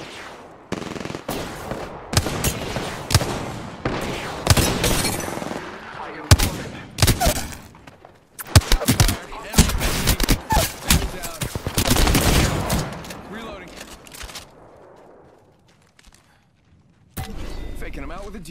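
Gunfire from Apex Legends, rapid bursts of automatic shots in clustered volleys with pauses between, loud and close, broken by a reload gap before a final burst.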